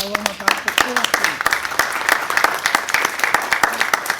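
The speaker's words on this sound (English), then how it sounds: "let's give him a big round of applause" Audience applause welcoming a speaker named Tom at a tech meetup, a loud run of sharp individual claps from a modest crowd, steady and close, with faint voices underneath.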